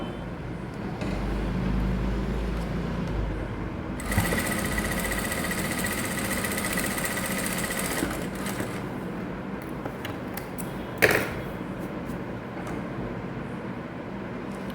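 An electric sewing machine whirs at full speed, stitching a one-inch basic seam in cloth for several seconds before slowing. Steady motor hum continues around the run, with a sharp click near the end.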